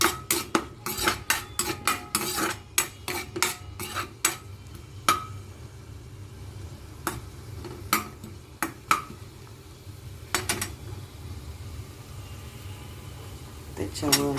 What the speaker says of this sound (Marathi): त्याच्यानंतर टाकणार हिरवी मिरची हे चांगलं परतून घेणार